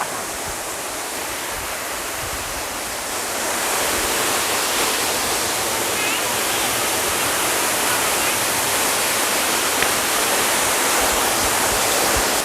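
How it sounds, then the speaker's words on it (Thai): A loud, steady roar of water plunging at Nam Tok Saeng Chan, a waterfall dropping over rocks into a pool in Thailand, constant and close, growing a little fuller a few seconds in. "เราอยู่ที่น้ำตกแสงจันทร์นะครับ หรือเรียกว่าน้ำตกรงรู"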